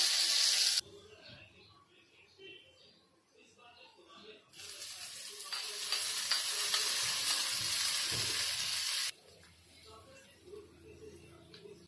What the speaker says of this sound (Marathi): आपण ही फोडणी टाकून घेऊया चटणीवर